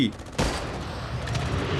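Gunfire in the zombie shooter video game Unkilled starts with a sharp blast and continues as dense, sustained shooting mixed with game noise.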